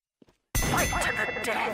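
In a video game, a bell rings to start round one. After a brief quiet, a bright ringing tone starts suddenly and sustains with a dense, loud wash of game sound beneath it.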